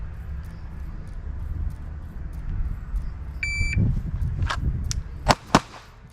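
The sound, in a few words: shot timer beep and pistol shots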